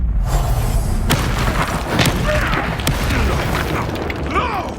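A Confringo blasting spell explodes in Hogwarts Legacy, a loud booming burst followed by several sharp cracks and crackling magical debris, with continuous dense game rumble underneath.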